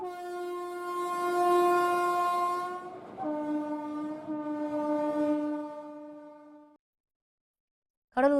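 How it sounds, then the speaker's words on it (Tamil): A high-speed train on a test run along a newly built railway line, moving at 120 km/h, sounds a long, loud horn that drops in pitch partway through as it passes, then falls silent before a brief final blast. "புதிய ரயில் பாதை 120 கிலோமீட்டர் வேகத்தில் அதிவிரைவு ரயிலை இயக்கி சோதனை ஓட்டம்"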